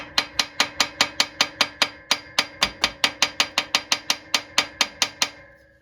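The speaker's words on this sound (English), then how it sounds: "I'm doing the old double wrench routine here" A wrench ratchets steadily on a 1968 Ford F-100 exhaust manifold bolt, about two dozen sharp metallic clicks in a fairly even rhythm, close and clear with no talking.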